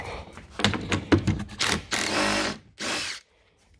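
A power drill whirs in short bursts while loosening bolts on a Club Car Precedent golf cart body, close and loud with brief pauses between pulses.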